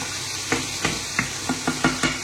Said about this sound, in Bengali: আর এখানে মাংসটা আমি গরম করে নিছি